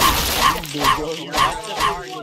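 A dog in a Roblox game barks in repeated yipping bursts, about five evenly spaced barks, loud and close, with players' voices talking over them.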